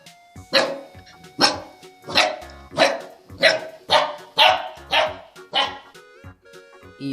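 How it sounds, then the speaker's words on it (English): A dog barks in a steady series of about nine loud, evenly spaced barks, close and clear with no talking. "D for dog"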